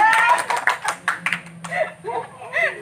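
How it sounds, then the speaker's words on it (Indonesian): A small group in a classroom-style group guidance session claps their hands in a short burst of uneven claps, with talking and light laughter mixed in. "Tepuk tangan untuk"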